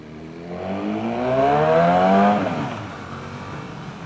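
A Yamaha R6 sport motorcycle, a 60th anniversary edition, accelerates on the road, engine pitch climbing through the revs as it rises in volume, then easing off and fading slightly; no talking.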